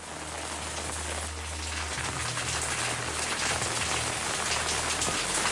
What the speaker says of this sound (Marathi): अनेक ठिकाणी जोरदार पाऊस सुरू आहे